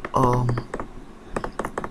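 A computer mouse is clicked repeatedly while dragging with the Photoshop pen tool. A handful of short, sharp clicks come in uneven bursts close to the microphone, with a voice speaking over the start.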